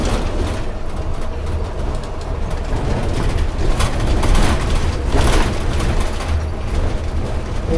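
A train rumbles past beneath a railway overbridge, heard from inside a moving GSRTC sleeper bus on the Dwarka–Gandhinagar route near Jamnagar, a loud steady roar that swells in the middle with rattling broadband noise.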